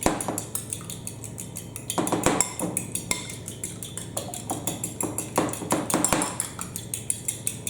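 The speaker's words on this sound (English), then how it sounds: "And beat those well together so that there's no separation at all between the yolks and the whites." Eggs beaten in a bowl with a utensil for tuna, sweetcorn and potato cakes, rapid repeated clinks and taps against the bowl in uneven bursts, close and clear.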